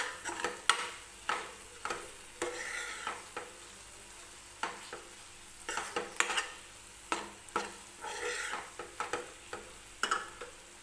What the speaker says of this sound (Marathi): तर हे मसाले सुद्धा व्यवस्थित आपल्याला तेलामध्ये भाजून घ्यायचे आहेत.